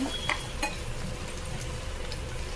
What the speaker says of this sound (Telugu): బాగా వేగాలండి ఆనియన్స్